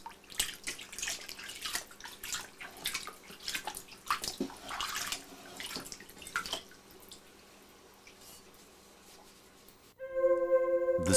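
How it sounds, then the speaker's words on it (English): A sword blade is washed with ash water solution, with irregular splashes and trickles of water for several seconds, then quieter running water and a sudden tonal hum near the end. "All surface oil is removed using an ash water solution, and the blade is then dried thoroughly."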